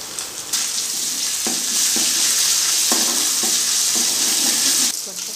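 Ginger garlic paste is stir-fried with vegetables for noodles, giving a loud, continuous close sizzle broken by rhythmic scraping strokes of a spatula, with no voices.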